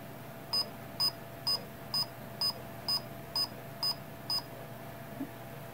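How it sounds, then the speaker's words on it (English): Self-balancing line-following robot's speaker gives nine short, evenly spaced electronic beeps about half a second apart, then a fainter tenth, clear and moderately loud over a low background hum. "The beeping speaker tells the speed meets the value required for takeoff."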